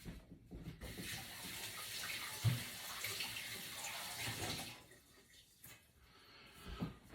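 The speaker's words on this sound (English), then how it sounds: "I'm gonna wash my hands." Running tap water splashes over hands being washed in a home kitchen while baking, a soft steady stream with a few brief bumps, then the flow stops and quiet handling noises follow.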